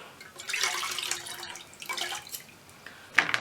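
Running tap water splashes over a sponge being rinsed, a soft, close trickle with swelling gushes and a brief louder splash near the end.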